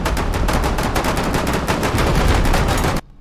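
Rapid, continuous video-game gunfire from a battle game, a dense stream of loud automatic shots for about three seconds that cuts off abruptly into silence.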